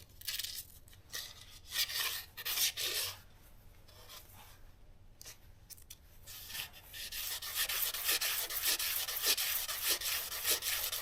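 A sandpaper strip rasps steadily against a Cummins crankshaft journal in repeated back-and-forth strokes, starting in uneven bursts and then settling into a continuous, fairly close scraping. No one speaks.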